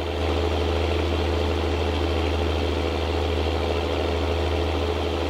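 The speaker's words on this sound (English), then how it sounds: "This is still a relatively old tractor, but it runs really well." An old tractor's engine in Farming Simulator 19, idling with a steady low drone and rumble at an even pitch, continuous and fairly close, with no talking.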